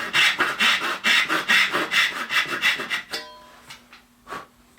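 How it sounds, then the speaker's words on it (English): Hand saw cutting pins for inlaid dovetails in wood, about a dozen close, rhythmic rasping strokes that stop sharply, followed by a few faint knocks and clicks. "carefully get the blade started. And carefully cut down to our line at 1/2 inch."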